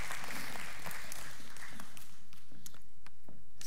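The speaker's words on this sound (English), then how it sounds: "give them cheer them on as they come up" Church congregation at a Sunday celebration service applauding as people come up to the front, a steady wash of clapping with scattered sharper claps, moderately loud and without speech.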